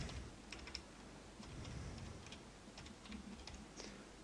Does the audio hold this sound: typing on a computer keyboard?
yes